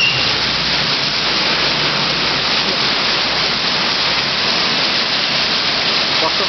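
Heavy rain with very strong wind in the city of Blitar, Indonesia, makes a dense, loud, unbroken roar that stays steady throughout, with no clear voices above it.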